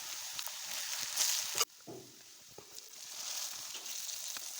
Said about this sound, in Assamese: এতিয়া মাংসখিনি দি দিওঁ আৰু অলপ লৰাই দিছোঁ।